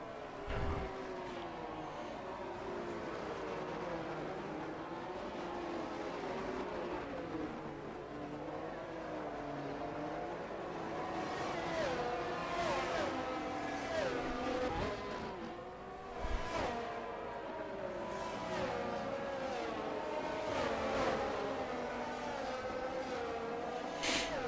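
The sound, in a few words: race cars on a formation lap at Bahrain in a racing video game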